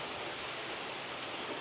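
Wind and rain from Hurricane Beryl in the Houston area, heard from under a patio, form a faint, steady, wash-like hiss with an occasional brief gust or spatter, and no speech.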